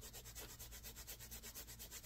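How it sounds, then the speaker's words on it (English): Steady rhythmic scraping of a diamond sanding pad roughing up the edge of a rubber stamp, close up, with regular strokes about every quarter second. "So I just take my Diamond Core sanding pad here"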